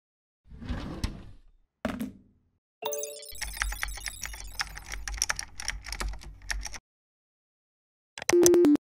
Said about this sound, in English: I'll start typing in our search on electricity.